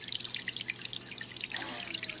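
Water churning and splashing from an Ovation 210 power jet filter in a nano aquarium, a close, steady bright trickling and bubbling with continuous fine droplet noise and no talking.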